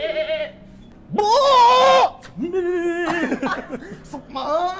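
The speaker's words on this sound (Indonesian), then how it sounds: "Ada kambing." A goat bleats near a roadside in Indonesia, two or three loud, wavering bleats separated by short pauses, while people talk and chuckle around it.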